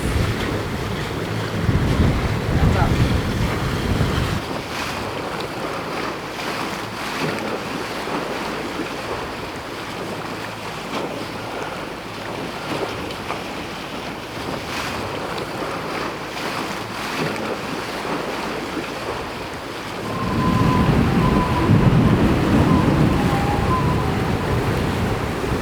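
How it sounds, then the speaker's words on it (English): Wind and waves rush around a sailing yacht running downwind, a steady broadband wash of water and buffeting wind noise on the microphone that swells louder near the start and again toward the end. "With the wind behind us, it's just beautiful sailing."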